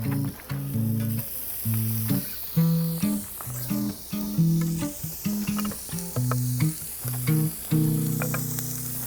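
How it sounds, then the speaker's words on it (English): Loud, continuous sizzling of kielbasa sausage in a frying pan on a stove, with rhythmic music playing underneath. "now for that beautiful, beautiful sizzle"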